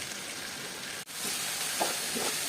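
Steady hissing sizzle of vegetables frying in a pan, close and continuous, with a brief dropout and a faint clink partway through.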